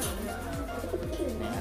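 A pigeon coos close by in low, soft, rhythmic calls repeated about every half second, with faint background noise.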